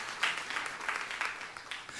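A church congregation breaks into applause, a soft steady wash of many hands clapping at a distance, moderately quiet and without talk.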